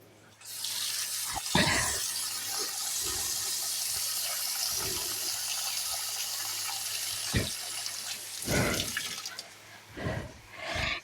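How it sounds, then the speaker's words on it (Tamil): Spinach greens are rinsed under a running tap in a home kitchen, with steady splashing water and intermittent clatters and thumps as the leaves and a vessel are handled nearby. "கொஞ்சம் இருங்க, கீரையை கழுவிக்கலாம்."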